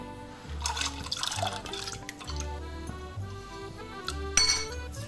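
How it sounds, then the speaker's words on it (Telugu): Soaked chana dal and cumin seeds tip into a pot of boiling water on a stove, with a sustained bubbling hiss, small splashes and a few metallic clinks of utensil against pot. "నీళ్లు మరిగాక ఇప్పుడు శనగపప్పు జీలకర్ర వేసుకోవాలి"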